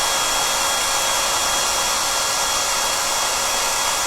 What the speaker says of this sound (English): unroll my trim roll by heating it up